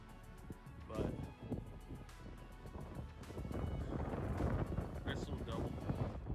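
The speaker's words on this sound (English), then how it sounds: "It's a little windy out" Gusty wind buffets the microphone outdoors along a predator trap line, a steady low rumble that swells louder in the second half, with faint rustling and scattered clicks underneath.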